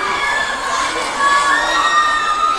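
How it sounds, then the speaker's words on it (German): A loud crowd cheers and shouts continuously at a European championship dance competition, high-pitched voices and children's yells blending into a dense, sustained roar. "Und laut schreien."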